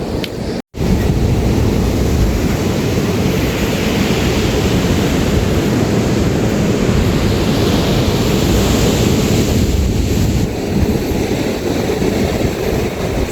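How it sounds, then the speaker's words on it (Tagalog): Loud, continuous roar of heavy surf crashing and churning close by, a dense wash of noise with no voices over it. "Grabe yung lakas ng alon ngayon"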